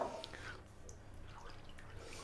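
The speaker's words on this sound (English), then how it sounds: "We're now going to add the rest of the milk." Milk is poured into a creamy cheese sauce in a pan over low heat for a vegetable parmesan bake, giving a faint, brief, soft splashing trickle.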